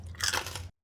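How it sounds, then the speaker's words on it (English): A single close bite into crispy air-fried pork belly skin gives a sharp, loud crunch with brittle crackling that cuts off abruptly after a fraction of a second. "The crunch says it all."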